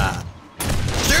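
Shotgun turret blasting at zombies during a horde night in 7 Days To Die, a burst of gunfire and mechanical clatter, a brief lull, then dense, loud repeated shots resuming through the rest.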